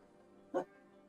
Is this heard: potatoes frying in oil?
no